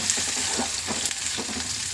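Onions frying in a pan for a crispy paper-poha snack give off a close, continuous hiss with gentle pulses of stirring every fraction of a second, no talk over it.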